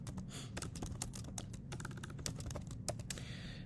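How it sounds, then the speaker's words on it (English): Rapid typing on a computer keyboard entering a credit score name into a lending rules web interface, a steady run of close, crisp key clicks with a few sharper strokes over a low background hum. "So you can type in FICO"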